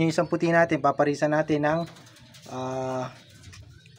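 A white pigeon gives one low, drawn-out coo after a stretch of close talking in Filipino.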